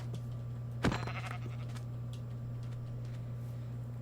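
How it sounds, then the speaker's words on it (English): A sheep bleats once in the Minecraft video game, a short, clear, fairly close cry over a steady low electronic hum and faint ticking background. "Ooh, another sheep."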